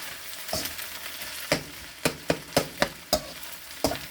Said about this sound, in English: And I added a little olive oil to my wok. And I'm just giving it a stir.